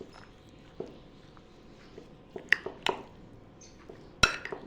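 Kaleji (liver) curry ingredients mixed in a pot, soft squishy stirring with a few sharp clinks of a spoon against metal, close and fairly quiet.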